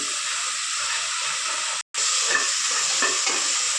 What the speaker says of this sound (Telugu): కొంచెం ఆవాలు వేసుకుంటున్నాను. చూడండి, ఆవాలు కాగిపోయినాయి.